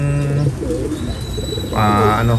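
Pigeons coo in a low, throaty rolling pattern close by, with a loud burst near the end, under light background noise and a possible faint voice.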